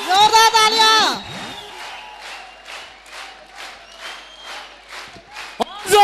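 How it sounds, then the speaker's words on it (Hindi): An audience applauds at a live event, a steady spread of clapping following a loud voice at the start and continuing at moderate level, with a sharp burst near the end. "जोरदार तालियां।"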